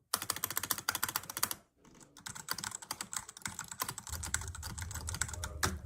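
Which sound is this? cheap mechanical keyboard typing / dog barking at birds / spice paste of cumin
cheap mechanical keyboard typing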